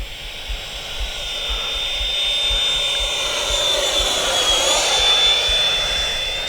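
A Freewing F-22 H.P. RC model jet with its landing gear and flaps down passes overhead as a steady, loud ducted-fan whine and rushing roar that builds slightly, with a thin high tone running through it.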